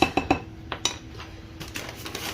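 Honey Bunches of Oats cereal mixed around in a bowl for a crunchy tilapia coating, a few sharp clinks of a utensil against the bowl, then soft rustling stirs, close and fairly quiet.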